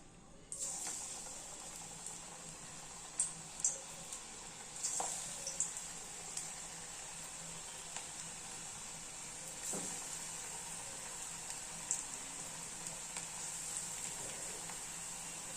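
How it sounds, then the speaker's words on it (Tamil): Small balls of bonda batter for tea-shop style bondas drop one by one into hot oil in a pan, each adding a soft plop to a faint, continuous sizzle. "நம்ம எண்ணெய் சூடாகிடுச்சு. இப்போ நம்ம போண்டா மாவு நல்லா பிசைஞ்சிக்கிட்டோம். சின்ன சின்னதாக எடுத்து இப்போ நம்ம போட்டுக்கலாம்."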